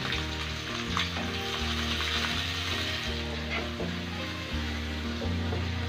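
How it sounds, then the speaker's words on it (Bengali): Shrimp fry in oil with salt, a loud, continuous sizzle and crackle over a low steady hum, with occasional stirring knocks. "ভালো করে চিংড়ি মাছটাকে ভেজে নিতে হবে।"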